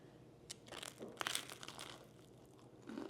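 Crisp crunching bites into air-fried garlic bread, a few close crackly crunches clustered near the start followed by softer chewing, no talking.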